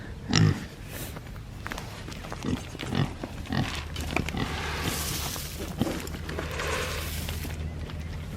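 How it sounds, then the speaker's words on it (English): Pigs grunting and oinking at feeding time in a farm pen, a strong burst of grunts near the start followed by scattered grunts and snuffling over steady outdoor background noise. "Okay, so pigs. Is it dinner time, Pickles?"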